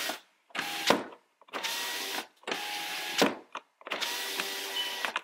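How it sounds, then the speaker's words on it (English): Rear passenger power window of a 2019-2020 Toyota RAV4 running up and down with an LED window switch: four separate motor whirs of about a second each, separated by brief silences, close and clear. "the automatic works up and down"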